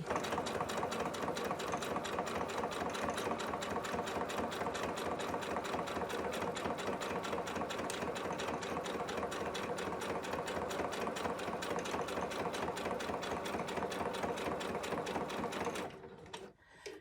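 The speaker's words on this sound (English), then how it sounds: "I'm going to back stitch a couple down, come back up, lock it off." A sewing machine stitches and back-stitches through a fabric notepad cover, a steady rapid mechanical whir running loud and close for about sixteen seconds before it stops abruptly.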